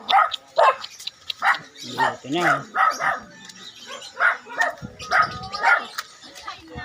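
A dog barks in short bursts outdoors, mixed in with steady nearby conversation that runs through the whole stretch.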